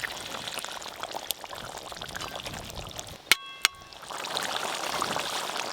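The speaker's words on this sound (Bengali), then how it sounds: "ঝোল তো বেশ ভালো করে ফুটে গেল, ভেজে রাখা সব মাছগুলো দিয়ে দেব।" Fried fish added to a boiling curry in a pot: a continuous bubbling, rushing simmer with two sharp metallic clinks midway, then the boil swells louder, close with no talk.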